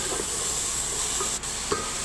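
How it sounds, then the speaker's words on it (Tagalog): Sayote ginisa, sautéed chayote, being stirred in a hot pan, with a steady sizzle and hiss throughout and a couple of faint utensil scrapes and taps against the pan. "Imekos-mekos na din."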